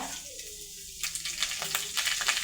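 Urad dal and chana dal sizzle and crackle in hot oil in a pan for coriander chutney, a steady close frying hiss that grows louder with scattered sharp pops partway through.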